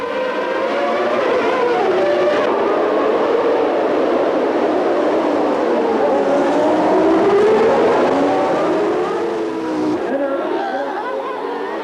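Formula One cars, Ferraris and McLarens, surge away at a race start: a loud, continuous wall of high-revving engine roar with rising and falling pitch sweeps as the pack passes, no voices.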